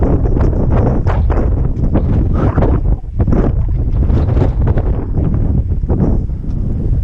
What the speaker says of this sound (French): un sacré vent là.